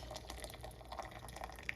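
Water runs steadily into a pitcher in a home kitchen, a soft, continuous filling trickle with faint drips, heard alone at low volume.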